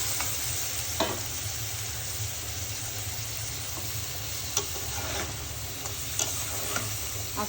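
Mixed vegetables with large prawns frying in a pan at home, a steady close sizzle with occasional scraping stirs of a spoon throughout.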